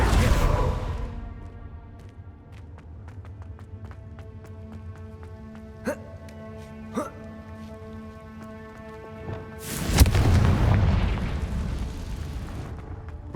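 Confringo blasting spells fired in Hogwarts Legacy: sharp, ringing magical impacts over a droning, tonal game soundscape, with two crisp hits partway through and a big roaring burst near the end, no talk.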